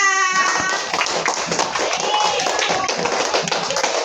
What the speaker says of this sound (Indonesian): Tepuk tangan untuk Sipa.